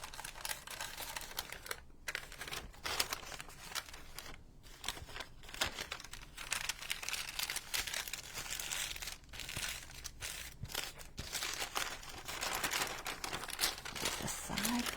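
A pharmacy paper bag is folded under by hand and crinkled, with close, steady rustling and crumpling that runs throughout, and a voice talks intermittently over it.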